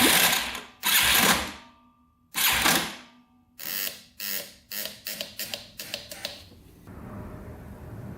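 A dirt bike engine cranks over with harsh, clanky mechanical clatter in several bursts, first slow and separated, then quicker and choppier, before it settles into a faint hiss.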